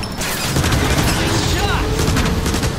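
Gunfire from a battle in the Transformers: War for Cybertron video game, with dense, continuous bursts and booms under a loud game soundtrack and character voices.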